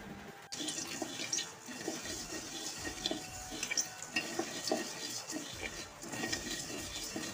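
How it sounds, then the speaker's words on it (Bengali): Puffed rice frying and being stirred in a pan, a dense crackly rustle with soft scraping strokes running throughout at moderate level, no voices. "জাস্ট মুড়িগুলো ভেজে নিচ্ছি"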